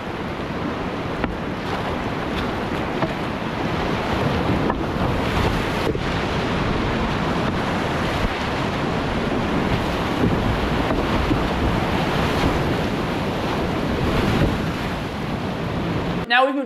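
Class five whitewater river rapids roar as a loud, continuous, dense rush of churning water, steady throughout with heavy wind buffeting on the microphone.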